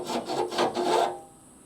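A file rasps across metal to take off a burr during a car restoration, five or six quick rhythmic strokes, close and clear, then it stops.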